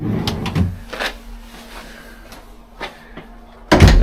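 Drawers in a Celebrity Apex cruise ship cabin being opened and shut, with a few separate wooden knocks and slides spread across the moment, ending in a louder close thump, no talking.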